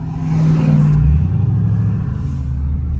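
A Dodge Charger Scat Pack accelerates hard from a 30 mph roll, its deep engine note rising then settling into a loud, close, rumbling drone with no talk over it.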